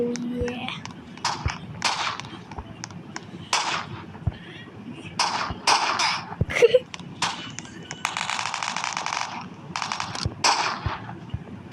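Gunfire from a powerful, slow-reloading gun in the Roblox game Fortline comes as short, punchy bursts and single cracks, with a voice talking in between the shots.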